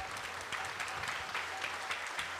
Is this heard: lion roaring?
no